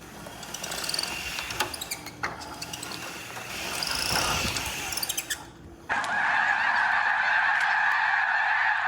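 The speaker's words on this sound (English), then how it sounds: "I'm getting a flock of birds noises coming out of, well, both the motors." Electric wheelchair motors whine and squeak with rapid, chattering, honk-like chirps resembling a flock of geese, one side worse, then shift into a steady loud high-pitched hum.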